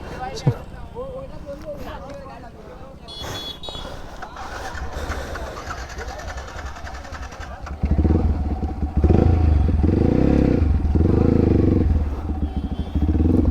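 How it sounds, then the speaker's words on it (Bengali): Motorcycle engine revving close by, quiet at first then a loud rhythmic series of throttle bursts in the second half, with people talking over it. "আমার বাইকটা নিয়ে কী করছে, ভুঁ করে আওয়াজ করছে"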